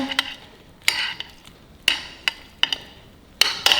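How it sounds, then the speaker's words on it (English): A utensil stirs cherry tomato pasta with garlic in a pan, making sharp clacks and scrapes against the metal at irregular intervals, close up with no talking. "we'll go ahead and give that a stir"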